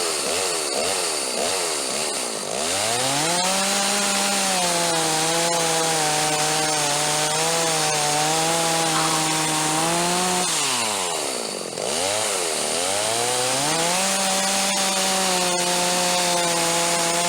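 A Stihl 039 chainsaw, stock before a muffler modification, cuts steadily through wood at full throttle, loud and close, with a brief revving dip between two long cuts.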